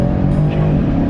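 A 2020 BMW 750i full-size sedan accelerating hard in manual mode from low speed, its engine note rising in a steady, close, loud drone with no talk over it.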